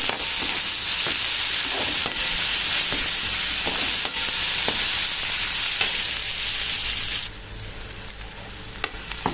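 Finely chopped onion frying in hot oil gives a loud, steady sizzle with occasional crackles and spatula scrapes, easing slightly toward the end.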